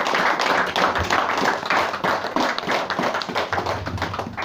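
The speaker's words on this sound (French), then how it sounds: "On va acclamer pour maman fille" A church congregation claps and cheers for the preacher, a dense, steady wash of many hands slapping at close range with no voices standing out over it.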